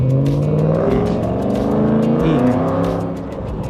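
A car engine revs loudly and roars past nearby, the sustained growl rising and falling with a throaty, racing-style tone and no talking over it.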